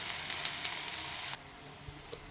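Masala spices sizzle steadily in hot oil while sautéed for a rustic shipi amti, a bright continuous hiss that drops to a quieter, softer frying sound partway through, with no talking.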